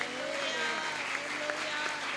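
A church congregation at a Sunday service claps together in a steady, dense wash of applause that fills the room, with voices murmuring faintly underneath and a few louder claps standing out.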